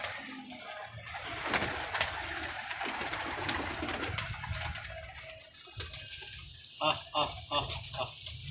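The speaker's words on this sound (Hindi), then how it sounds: "तो भाईजान इनके पास है कुछ कबूतर जोड़ों वाले" Low, throaty cooing from pigeons sounds close by, repeating in soft bursts amid background noise and faint voices.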